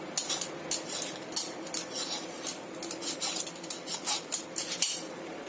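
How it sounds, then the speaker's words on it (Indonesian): A purple sweet potato is peeled with a knife in a home kitchen, giving a steady run of short, crisp scraping strokes at close range with no talking. "Ini saya akan kupas ubi ungunya, kupas sampai bersih ya."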